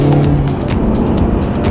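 A VW Mk7.5 Golf GTI Performance drives along a twisty road, its engine and tyre roar steady and close throughout, with a low rumble and no talking.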